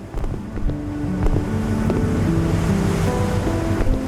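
Sea waves slosh and thump against the hull of a boat in a steady, close wash, with wind noise buffeting the microphone throughout.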